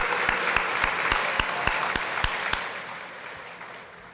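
Applause from the audience at a city's State of the City address, a dense wash of clapping with a few sharp claps standing out, fading steadily toward the end.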